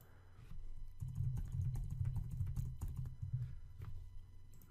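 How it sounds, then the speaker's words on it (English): Quick, continuous clicking of a computer keyboard being typed on, close and fairly steady over a faint low hum, with no talking. "now you can start typing whatever you want"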